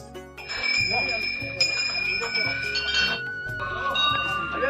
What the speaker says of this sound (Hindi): यहाँ से शुरू हो गया है सेम नागराजा मंदिर की घंटियाँ